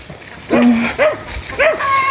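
A dog gives several short yips and barks on a farm, about three bursts spaced through the clip, fairly close.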